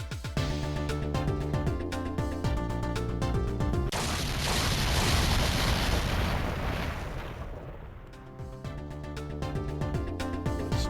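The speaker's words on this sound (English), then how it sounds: "I think I heard an explosion somewhere." A loud, rumbling explosion in the video game Ghost Trick: Phantom Detective, a sustained roaring blast swelling over several seconds and layered with in-game music, then fading as the music carries on.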